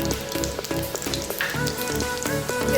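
Ground spice paste goes into a hot mustard seed and cumin tempering and fries with a loud, continuous sizzle and crackle, with occasional stirring scrapes over steady background music.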